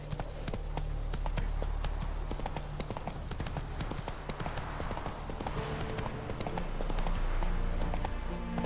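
Roach, the horse in The Witcher 3, galloping with rapid rhythmic hoof clops over a dense, steady ambient game backdrop, the hoofbeats close and continuous throughout.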